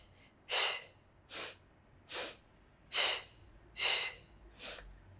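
Six audible breaths during a beginner Pilates leg workout, evenly spaced about a second apart, airy and close, with no talk.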